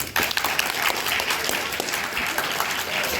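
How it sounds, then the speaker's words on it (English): Audience applause for the judges at a debate event, a dense steady burst of many hands clapping that starts abruptly and carries on at full strength throughout. "Would you give them a big round of applause, please?"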